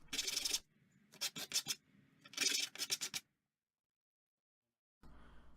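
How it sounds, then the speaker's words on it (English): Cut copper edges rubbed on 100 grit sandpaper, giving close, loud rasping strokes: one long pass, then bursts of quick short strokes, a silent gap, and a final rub. "we're taking that piece of copper that we just cut to, I think this is 100 grit sandpaper, just to get the edges off"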